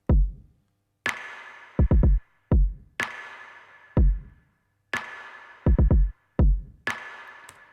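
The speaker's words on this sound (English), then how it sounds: "some little electronic drums here that sound like this" Sparse electronic drum pattern: punchy kicks and snappy hits with bright noisy tails, grouped in quick clusters with short gaps, played alone and fairly loud.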